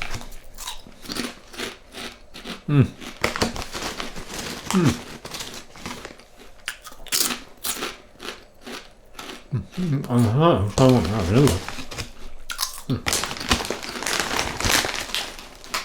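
Loud, close crunching and chewing of crisp lentil snacks, with repeated bites and rustling of a bag, and a voice speaking in between.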